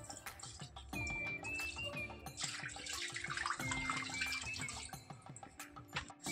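Water is poured and trickles over a kitchen chimney during cleaning, with splashing, runs of pouring and scattered drips heard up close, with no talking.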